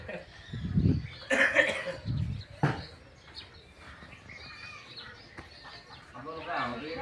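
Farmyard chickens clucking near a buffalo shed, short bursts of clucks and calls mixed in with someone talking over them, close by and moderately loud.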